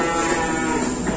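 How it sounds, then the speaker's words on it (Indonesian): A Brahman or Javanese cow moos in one long, steady, loud low call that fills the whole moment, close by, with no talk over it. "Ini koleksinya Cak Sutris, ada sapi Brahman, ini non koil ya teman-teman, non koil sama satunya sapi Jawa, satunya si Cucu."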